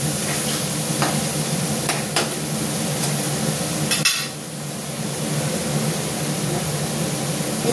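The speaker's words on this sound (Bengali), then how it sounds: "এবার বেশ সুন্দর করে আমি মশলাটাকে কষিয়ে নেব" Masala spices sautéing in a pan for a fish curry, with a steady, close sizzle throughout and several sharp scrapes and clinks as a spoon stirs against the pan.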